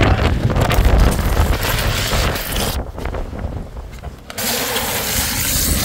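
Strong wind gusts around potted bougainvillea plants on an evening, a loud, rough buffeting roar across the microphone that eases briefly midway before picking up again.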